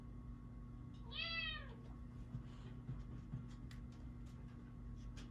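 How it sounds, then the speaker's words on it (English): A cat lets out one loud, drawn-out meow from under a door, heard slightly muffled, followed by faint rustling and small knocks over a steady low hum. "My cat just screamed at me from under the door."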